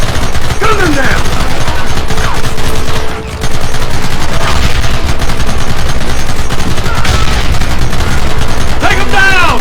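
Heavy gunfire in a Red Dead Redemption shootout, with rapid overlapping shots and booms in a dense, loud barrage that drops briefly before resuming, with shouting voices mixed in.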